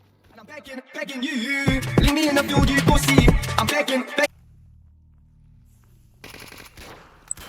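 Rapid machine-gun bursts rattle loud and close in a STALKER Anomaly firefight, dense volleys packed into the first few seconds and then cut off sharply, leaving a low hum before faint scattered shots return.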